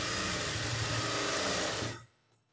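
A sewing machine runs steadily while stitching the lining of a blouse, a loud continuous mechanical whir that stops abruptly near the end, leaving near silence.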